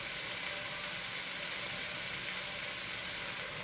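Soy sauce hitting hot oil in a rice mixture for quick fried rice: a steady, dense hiss of sizzling, close and continuous without pause.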